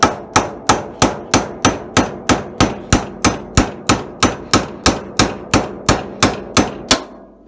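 Hammer blows on a chisel cut through a polyurethane motor mount bushing, about sixteen loud metallic strikes in a steady, even rhythm, each ringing out briefly, close up with no talking.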